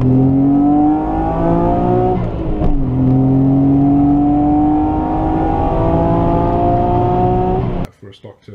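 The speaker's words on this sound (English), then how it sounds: "Stock turbo setup, picking up speed very quickly." Nissan R32 GTR on its stock turbo setup accelerating hard, the engine note climbing steadily through a gear, dipping briefly at a shift and rising again, loud and close from inside the car before cutting off abruptly.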